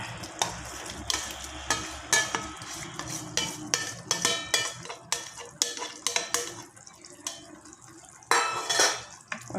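Sardines go into a pan of simmering sardine curry, accompanied by close clanks of a utensil against the pan, scraping stirs and a faint sizzle in short repeated bursts.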